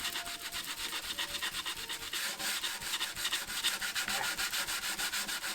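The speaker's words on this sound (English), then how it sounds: "we do need to sand this down just a little bit. Thinking I can hand sand this." Wood of a swarm capture box for a bee vacuum is sanded by hand in quick, rhythmic back-and-forth strokes, a loud close scratchy rasp repeating steadily throughout with no talking.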